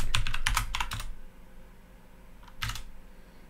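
Quick bursts of typing on a computer keyboard, a dense flurry of keystrokes followed by a pause and a short final cluster, close and fairly quiet.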